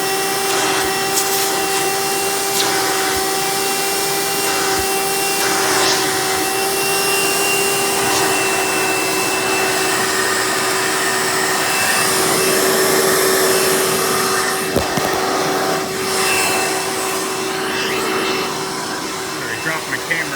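A Hoover Elite 350 direct-air upright vacuum cleaner runs close and loud with a constant steady roar and whine, with a few brief knocks as it is handled.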